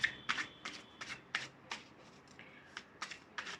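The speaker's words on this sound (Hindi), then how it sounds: "देख लेते हैं हमारे टैरो से भी यदि कुछ और कार्ड्स निकल कर के आना चाहते हैं" Tarot cards being shuffled by hand: a series of about ten quick, crisp riffling bursts at an irregular rhythm, close and fairly quiet, with no talking.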